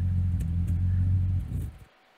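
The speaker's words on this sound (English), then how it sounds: "So revving the engine there" A recorded engine-revving sample plays in Meta Haptics Studio, a steady low humming drone that holds, then winds down and cuts off abruptly near the end, loud and without talk.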